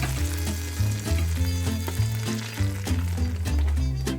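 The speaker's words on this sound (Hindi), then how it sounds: "अब ये तड़का जाने लगा है दाल में।" A desi ghee tadka with chilli is poured into cooking chana dal, giving a continuous bright sizzle and crackle that runs throughout under a steady tonal background.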